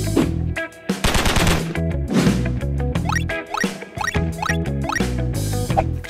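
Glock 43 9mm pistol firing at a range: a quick run of sharp, loud gunshots, about a dozen over six seconds in uneven bursts, close to the microphone with no voices.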